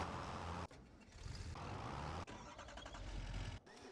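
Challenger tractor with a 225 horsepower engine in Farming Simulator 25, a steady low engine rumble with shifting load and a couple of brief dips, loud and close, with no talk.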